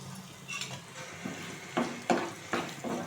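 Fenugreek leaves and urad dal fry in a pan as a spatula scrapes through them. About five distinct stirring strokes sound over a soft, continuous sizzle, close and fairly quiet, with no talk.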